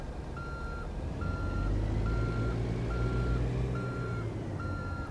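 A semi truck in American Truck Simulator reverses a trailer, its reversing alarm beeping in a steady repeating pattern over a low idling diesel engine rumble.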